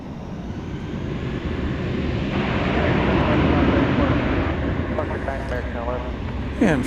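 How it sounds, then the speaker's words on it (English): An airliner on a night departure from DFW toward San Diego rumbles up to a steady roar that builds and eases, with a person speaking over it. "Flight 1011 to San Diego now is lifting off."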